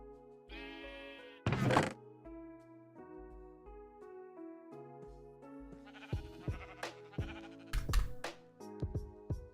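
Sheep bleat several times in a survival video game, short nasal calls over a bed of sustained music and a few thunking impacts, moderately close.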